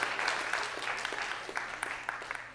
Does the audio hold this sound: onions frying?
no